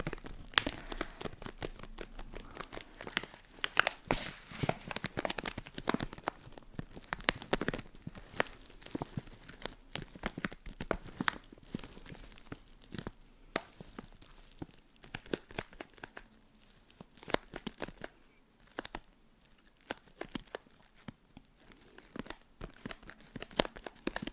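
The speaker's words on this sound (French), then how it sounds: "On les coupe en tout petits morceaux pour les mettre dans ses jouets et tout" Paper or plastic packaging being cut and torn into small pieces, close and quiet, with a steady run of crisp snips, crinkles and tearing rustles and no talking.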